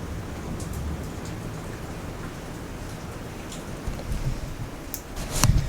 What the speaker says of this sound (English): It's raining on my stuff. It's raining on the bed.